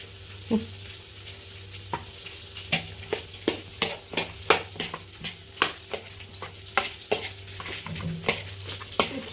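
Onion and cucumber salad with salt is stirred in a bowl, giving a series of close, crisp scraping and clinking strokes in an uneven rhythm over a faint steady background hum.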